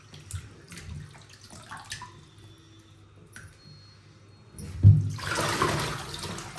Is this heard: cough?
no